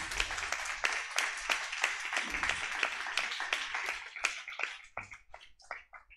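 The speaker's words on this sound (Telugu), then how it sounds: "కొట్టాలనుకుంటే చప్పట్లు గట్టి కొట్టాలి" A crowd of listeners claps in a brisk, uneven run of hand claps at a religious gathering, loud at first and then thinning into scattered separate claps.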